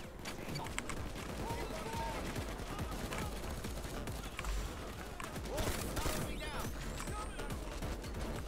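Full auto shotgun blasting in a video game, rapid repeated booming shots in a dense, continuous volley with crashes and impacts, while a player talks over the fire.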